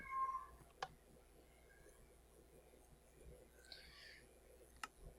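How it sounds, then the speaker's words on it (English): Cat meowing indoors during a session of modded Minecraft, a few faint, thin mews scattered across a quiet room tone with soft clicks and a brief sharp tap, heard alone without talk. "we need the cat to shut up"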